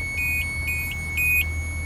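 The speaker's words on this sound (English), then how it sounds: "the system beeps and the LEDs light up" USA SPEC BSM200 blind spot detection system on a Corvette C6/C7 giving three short pairs of high electronic beeps at an even pace over a low steady hum, close and clear.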